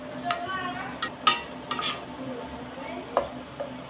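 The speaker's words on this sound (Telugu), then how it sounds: "బాగా బ్రౌన్ కలర్ వచ్చేదాకా వేపుకుందాం." Onions frying in a pan for a raw cashew curry, with a soft sizzle under clinking, scraping stirring from a spoon against the pan, close and moderately quiet.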